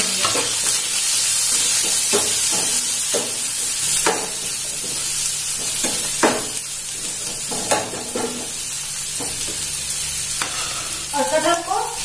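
Chopped onion, ginger, green chili and garlic fry with asafoetida and cumin in a home kitchen pan, giving a loud continuous sizzle broken by repeated stirring scrapes and spoon knocks, close up and without speech.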